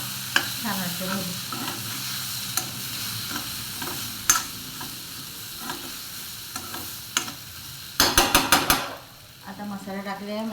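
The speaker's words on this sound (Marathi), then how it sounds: "अर्धा चमचा किचन किंग मसाला टाकूया. परत परतून घेऊया." Potato slices with Kitchen King masala being stirred and fried in a pan: steady close sizzling with repeated spatula scrapes and a quick run of sharp metallic clatters near the end, no voices.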